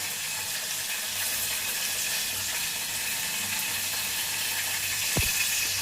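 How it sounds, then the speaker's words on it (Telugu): Tomato chutney ingredients fry in a pan with a steady, moderate hiss of sizzling oil that holds even throughout, broken by one short knock near the end. No voices. "ఇదైతే ఫ్రై అవ్వనిద్దాము."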